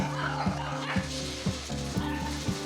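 An American Bully dog gives a quick series of short barks, about five or six in a steady rhythm, fairly close and moderately loud, at a pet center.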